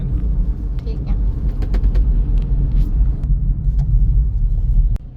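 A car driving toward Khajuraho, with a loud, steady low engine and road rumble from inside, small clicks and rattles, and a thump near the end.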